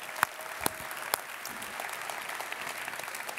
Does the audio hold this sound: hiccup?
no